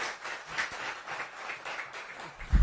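Moderate applause from a school audience at a World Space Week prize announcement, welcoming a third-prize student winner; soft, fairly even clapping with a thump at the end.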